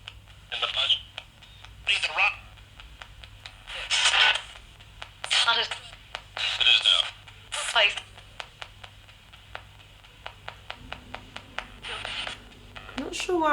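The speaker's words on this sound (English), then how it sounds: "I'm not sure why my spirit box sounds like this." A spirit box radio sweeping through stations in a hotel room, giving choppy bursts of static and broken voice fragments in an irregular stuttering rhythm, close and moderately loud, with a low steady hum underneath.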